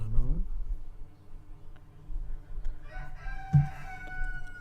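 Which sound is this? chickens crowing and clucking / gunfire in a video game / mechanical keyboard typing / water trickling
chickens crowing and clucking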